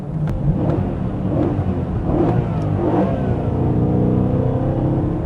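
A BMW E92 M3 V8 engine revs hard and steadily with a deep, metallic rumble, loud and close, sustained throughout with no talking.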